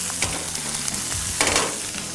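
Prawns seasoned with salt and pepper hit a hot pan with olive oil, giving a loud, steady sizzle with a few stirring scrapes and crackles, heard alone without talk.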